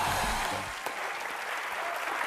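Studio audience applause on an Indian TV comedy show, a dense steady wash of clapping from a large crowd, loud and continuous, with a brief musical sting fading at the start.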